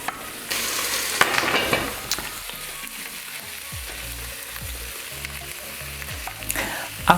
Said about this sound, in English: Using a medium heat, we are cooking now for 5 minutes with the lid on.